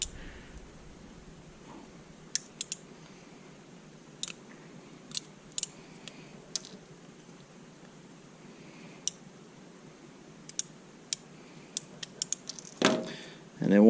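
Small plastic tabs snapping off a Sanwa arcade joystick gate, heard as scattered sharp close clicks and pops over a quiet background, clustering more tightly toward the end before a brief rustle.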